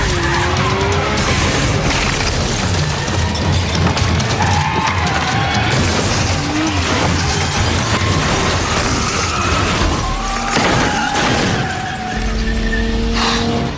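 Cars race and skid in a film scene from Fast & Furious (2009), loud roaring engines with tire squeals and screeching sweeps rising and falling, dense and continuous with layered impacts and mechanical noise.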